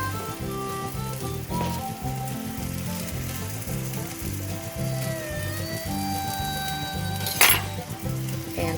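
Butter sizzles loudly and continuously beside a pancake in a hot pan, with a few clinks of utensils and a brief sharp scrape near the end, no one speaking.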